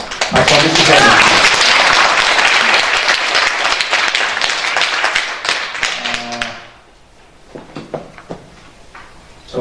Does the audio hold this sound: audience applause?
yes